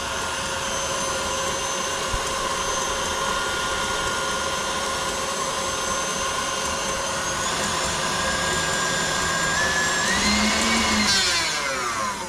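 An electric mixer whips egg whites for a chocolate soufflé, running as a loud, constant whirring drone that rises in pitch as the speed increases toward the end, with no speech.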